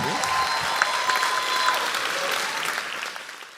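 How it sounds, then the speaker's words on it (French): A packed audience at a drag show in a full hall applauds Mona with sustained, dense clapping that carries on evenly and then tapers slightly toward the end; a faint voice sits under the crowd noise. "une bonne main d'applaudissement pour Mona"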